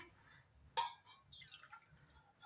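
Water poured from a bowl into a cooking pot of kadhi gives a single brief splash early on, then a faint, quiet trickle against a low background.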